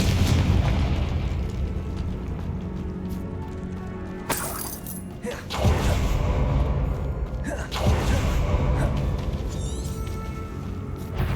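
Confringo and Bombarda spell explosions in Hogwarts Legacy on Xbox Series X: several loud booms and bursts, about three standing out, over continuous game combat noise and score, with voices in the mix.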